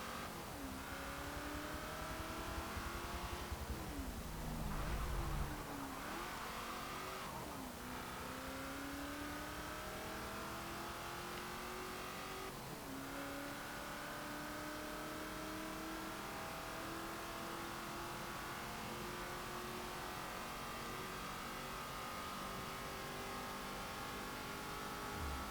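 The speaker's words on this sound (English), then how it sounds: "that Cleveland V8 does sound really rather good. I'll let you hear it for a little while." A 1971 Ford Falcon XY GTHO Phase III's Cleveland V8 engine in the video game Forza Motorsport 7 revs and roars continuously, pitch climbing through gears with brief drops at each shift, loud and close for a long stretch.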